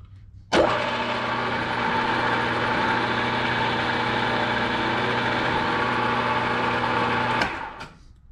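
A steady, sustained motorized whir of a drill boring holes in the edge of a metal part for a surface grinder wheel balancing stand, starting abruptly and running continuously for several seconds before stopping, close and loud.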